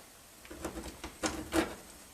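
A knife shaves a block of chocolate on a cutting board, making a few quiet scraping strokes and soft knocks against the board.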